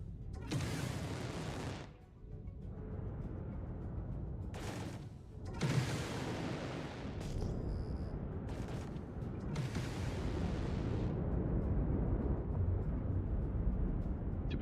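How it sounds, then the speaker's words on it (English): Fireworks exploding in a space video game, heard as repeated loud bursts and crackling blasts over several seconds, one after another, with a sustained rumbling roar between them. "Fireworks."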